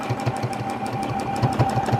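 A Juki sewing machine stitches free motion quilting pebbles at a slow pace, its needle thumping in a steady rhythmic pulse over a continuous motor hum, close and moderately loud.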